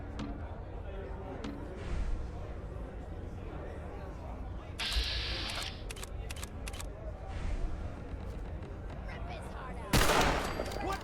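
Video game gunfire: bursts of rapid automatic fire and several single shots, with a loud burst near the end, over a busy game background while a person talks.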